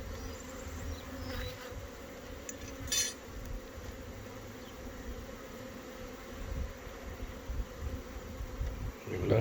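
Agitated honeybees buzz around an opened hive during an inspection, a dense continuous hum close by with brief clinks of tools, no voices.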